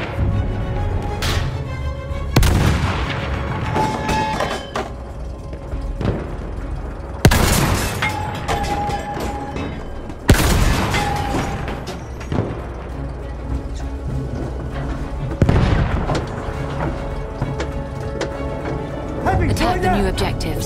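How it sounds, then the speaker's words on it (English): Heavy booms from an enemy artillery barrage in Battlefield 1 break over a constant rumbling din, several loud blasts spaced a few seconds apart. "Wait for the enemy artillery barrage to stop firing."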